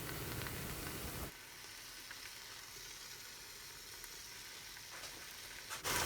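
Bacon sizzles in a Ninja Foodi multicooker, a steady dense crackle and hiss that holds at an even level throughout, with a brief shift in texture near the start and end; no voices.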